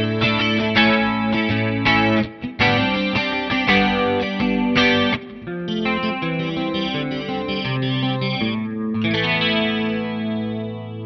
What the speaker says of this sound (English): This is the slowest speed, which I think is still too fast